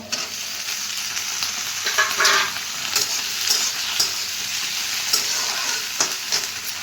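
Chopped tomato fries in a pan with a loud, continuous sizzle, broken by bursts of stirring and spattering.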